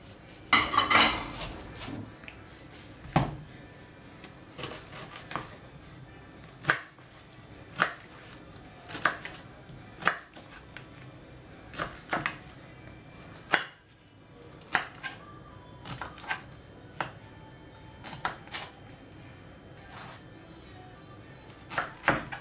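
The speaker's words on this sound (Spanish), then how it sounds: "Lo vamos a ir picando a trocitos chiquititos." A knife chops a pineapple slice into small pieces on a board, with a steady series of sharp, close knocks spaced about a second apart over roughly twenty seconds and no talking.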